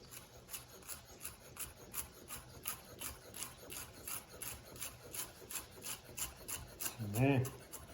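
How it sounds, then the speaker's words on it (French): Italian parsley is chopped with a knife on a board, producing soft, steady rhythmic rasping strokes, faint and close, with a short voiced sound near the end. "Et puis, un peu de persil italien. On va hacher."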